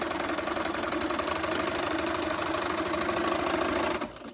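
A sewing machine stitching quilt strips, running steadily and continuously close by with a rapid mechanical whir and rattle, then stopping abruptly near the end.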